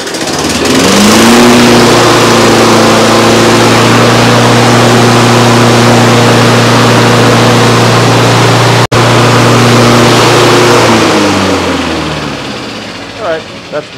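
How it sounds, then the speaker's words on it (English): Kawasaki FJ180V engine on a Snapper mower pull-started at full choke, then running loud and steady near the microphone with a brief cutout around the middle before it settles and fades at the end. "So let's do full choke, give her a tug, and see what happens."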